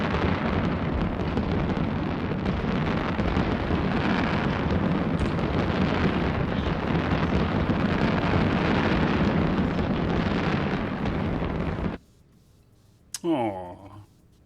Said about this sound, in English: they were just shooting fireworks at me